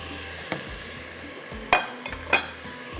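Masala with tomato and onion being stirred in a pan, soft sizzling under a few sharp spoon scrapes and clinks against the metal, close and fairly quiet.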